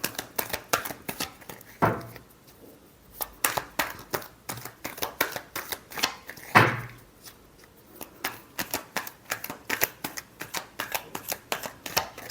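Tarot cards shuffled by hand in a long run of crisp, rapid riffling bursts, with two sharper slaps partway through, close up and with no talking.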